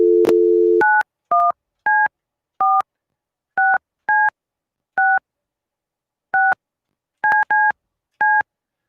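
A series of telephone dialing tones sounds while a call is being placed: a short steady tone, then about eleven distinct keypad beeps in an irregular rhythm, clear and close, with no voices.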